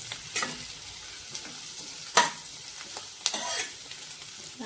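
Dried red chillies and curry leaves sauté in oil with a soft, faint sizzle, broken by a few sharp spatula scrapes and stirring knocks against the pan.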